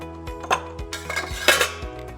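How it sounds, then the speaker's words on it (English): Ice cubes clink into a glass for a grenadine drink, with several sharp clinks in an irregular rhythm, close and clear, and no talk. "Then add some 2-3 cubes of ice."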